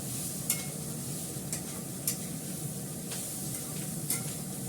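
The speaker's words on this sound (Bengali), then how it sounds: "আমি কিন্তু এটা ভাজাটা একদমই অল্প তেলে করবো, মানে তেল অল্পই দিয়েছি" Leftover rice, reheated after the fridge, is stir-fried in very little oil, with a low continuous sizzle and regular sharp scraping stirs of the spatula, close and fairly quiet.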